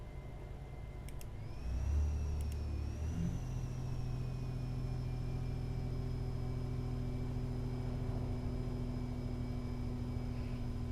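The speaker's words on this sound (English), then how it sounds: "Beautiful turbo noise." A heavy truck in American Truck Simulator hauling a load in an Argosy cab, its turbo whine rising in pitch then holding a steady high whistle over a constant low engine drone.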